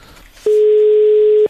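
A telephone busy tone after the caller hangs up: one loud, steady electronic tone that holds for about a second, with faint line noise before it.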